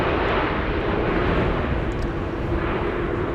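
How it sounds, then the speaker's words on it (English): An Air France Bombardier C-Series airliner arriving from Paris at Amsterdam Schiphol in strong wind produces a loud, continuous, rumbling jet roar that holds steady throughout, with wind noise mixed in. "Air France flight 1444. Bombardier C-Series 8220 arriving from Paris."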